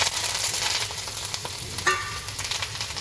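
Curry leaf water hitting hot oil in a tempering pan for khandvi: a loud, bursting sizzle close up that settles into continuous crackling hiss with scattered sharp pops, no voices.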